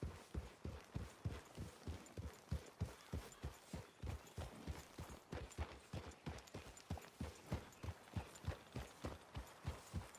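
Horse hooves gallop in Red Dead Redemption 2, a long run of sharp, evenly spaced hoofbeats with a steady driving rhythm. The beats are close and distinct, with no voices over them.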